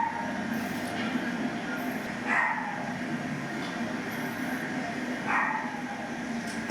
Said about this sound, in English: she's a dog, she barks